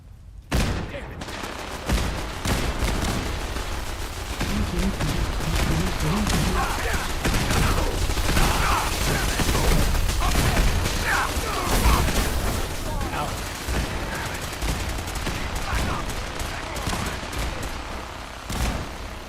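Sustained gunfire in Fallout 4 aimed at the player, rapid overlapping shots and bursts rattling almost continuously, loud and dense, with a voice talking over parts of it.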